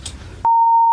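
A phone beeps while a call is being placed, a loud steady single-pitch electronic tone that starts abruptly after brief muffled room noise and holds to the end.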